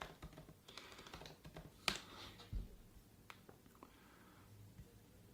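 Typing a search into a computer keyboard, with quick, faint key clicks in uneven bursts and a couple of louder taps, over a quiet room.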